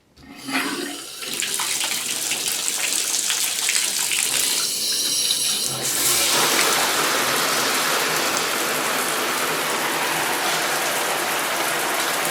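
Water gushes steadily from an older Price Pfister three-valve bathtub faucet after servicing, a loud continuous rushing spray that swells and stays strong throughout, with no talking.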